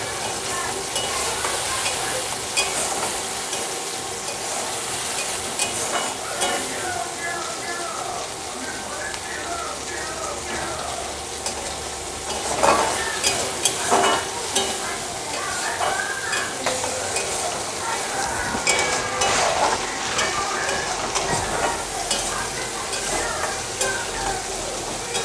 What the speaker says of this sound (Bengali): হলুদের গুঁড়ো দিলাম, আর দেবো লঙ্কার গুঁড়ো দিয়ে মশলাটা ভালো করে কষিয়ে নেব